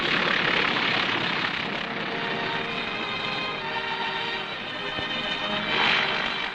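A propeller airplane drones steadily at a moderate distance as it comes in to land on a newly cleared island airstrip, a continuous engine hum with no talk.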